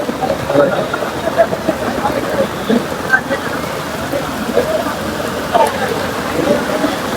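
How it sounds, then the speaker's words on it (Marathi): Heavy rain pours outdoors during a Ganesh arrival procession in Mumbai, a steady dense hiss with a few louder patters, with voices talking beneath it. "कारण पाऊस खूप पडू लागलाय"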